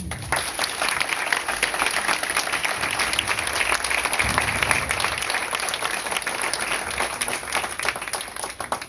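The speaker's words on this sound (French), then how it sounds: "Je pense qu'on peut vraiment les applaudir." A room of guests at a thank-you evening breaks into steady, dense applause that carries on evenly throughout, with faint crowd murmur beneath the clapping.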